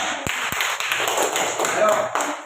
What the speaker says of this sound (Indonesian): kita berikan dulu tepuk tangan supaya mereka semangat.